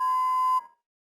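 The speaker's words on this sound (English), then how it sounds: "leave a message after the beep" A single answering machine beep from the video game Vortex Point, a steady electronic tone lasting about half a second, clear and close, then a brief fade into silence.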